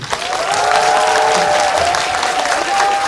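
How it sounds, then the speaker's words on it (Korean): An indoor theater audience at a Korean film Q&A screening for The Moon claps loudly and continuously, a dense wash of applause with a faint high whistle or cheer threaded through it. "박수 한번 주십시오."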